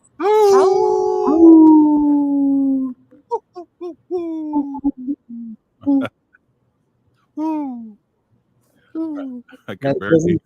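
A wolf-like howl rises and sustains loudly, then breaks into a series of shorter, wavering hoots and howls with gaps between them, ending with a brief burst of clatter.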